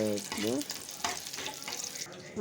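Curry leaves and garlic frying in a hot pan, a steady close sizzle with stirring, while someone talks over it throughout.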